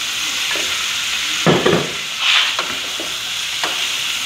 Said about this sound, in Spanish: ya que está bien cocidita la cebolla, le vamos a poner las papas